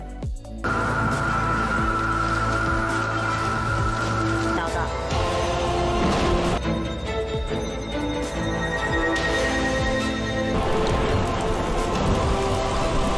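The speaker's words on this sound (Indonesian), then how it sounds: "setelah itu nampaklah hujan yang sangat deras" Heavy rain pours down steadily and densely for the whole stretch, a loud continuous wash with possible thunder rumbling underneath.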